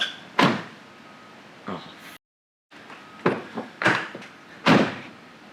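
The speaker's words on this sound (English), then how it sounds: "Close the door first. See if it closes from the outside." Several solid thunks of a Porsche 911 door shutting and latching, spaced across a few seconds, with quiet pauses between, fairly close.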